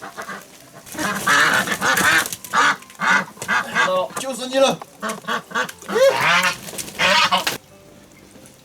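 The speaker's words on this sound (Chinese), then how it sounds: "要把鸭子捉到喽！" A duck quacks and honks in loud, irregular bursts as it is caught, with people talking over and between the calls.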